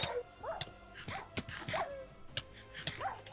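In a Minecraft UHC game, a dog gives repeated sharp barks and rising whimpering yelps in quick, irregular succession, fairly close and loud, with clicks and game sounds in between.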